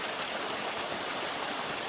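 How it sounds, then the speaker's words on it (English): Water pours from the Susie Lake outlet in the Desolation Wilderness, a dense, even hiss of flowing stream close by and steady throughout, with no voices. "This is the Susie Lake outlet, just a couple hundred yards from my campsite."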